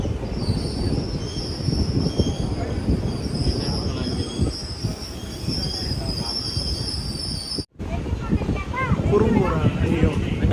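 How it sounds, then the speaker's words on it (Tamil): Passenger train departing Kurumbur station on the Tirunelveli to Tiruchendur line, wheels screeching and squealing steadily on the rails with continuous rolling rumble, loud and close from onboard. "குறும்பூர்லேருந்து நம்ம ட்ரெயின் டிபார்ட் ஆகி போயிட்டுருக்குதுங்க"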